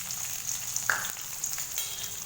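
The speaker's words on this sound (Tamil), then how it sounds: "இதெல்லாம் எண்ணெய் நல்லா பொரிஞ்சதுமே வெங்காயம் சேர்த்துக்கங்க." Fennel, cumin and onion frying in hot oil give a soft, steady sizzle with a few light crackles and pops over a short stretch.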